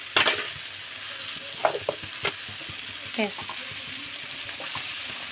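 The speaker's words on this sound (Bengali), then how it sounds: "এটা ভালো করে একটু নাড়িয়ে টাড়িয়ে নেব। খুব সামান্য তেলে" Mustard paste fries gently in a small amount of oil while being stirred, giving a soft continuous sizzle with scattered scrapes and clicks of the utensil and a faint voice in the background.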